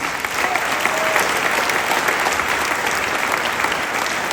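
An audience at a concert claps for the lighting technician, dense and loud sustained applause from a full hall, steady for the whole stretch without speech.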